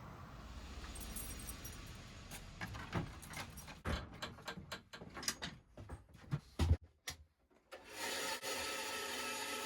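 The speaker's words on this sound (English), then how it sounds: "The rubber sheet cuts really nice on the bandsaw using a coarse toothed blade." A bandsaw with a coarse toothed blade cuts through a thick rubber sheet in a shed, making a quiet, uneven rasping and rubbing with scattered clicks and brief pauses, close by and with no talking.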